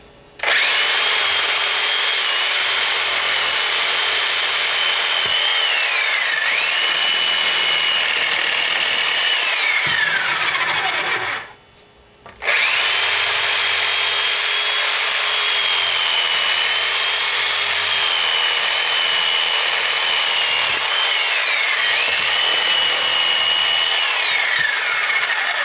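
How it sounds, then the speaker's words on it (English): A saw cuts deer antlers off the skull in a continuous, loud grinding rasp, with a short pause partway through before the cutting resumes. "let me cut these antlers off now"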